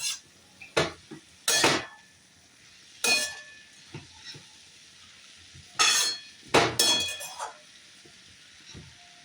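Frying cabbage seasoned with salt and turmeric gets a lid set over its pan, with several separate metallic clangs and rattles spaced apart over a quiet background.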